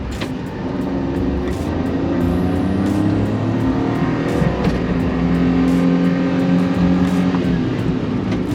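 A Honda Acty kei truck's small engine labours uphill in first gear, a loud, steady droning whine that holds a constant pitch from inside the cab.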